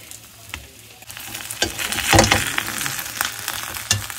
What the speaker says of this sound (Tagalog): Okay, ayan, luto na yung ating fried fish.